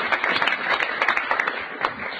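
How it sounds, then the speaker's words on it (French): Studio audience applause on a French radio panel show, dense clapping at close to moderate distance with scattered sharper claps, brief and lively throughout. "je demande qu'on applaudisse encore une fois Laurence Boccolini"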